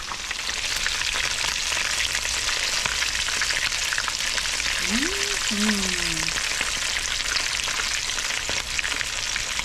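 Thin bluegill fish fillets fry in a pan with a steady, close crackling sizzle throughout, and a brief faint tonal sound rises partway through.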